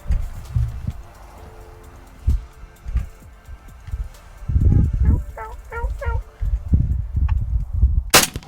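A single loud shotgun blast rings out at a turkey during a Michigan spring hunt, arriving abruptly at the very end after quiet rustling, hushed voices and a few gobbles from nearby toms.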